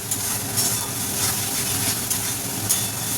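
Spice paste sautéed in oil in a pan for a Bengali tel potol (pointed gourd) dish, a continuous close sizzle with soft stirring scrapes and no talk.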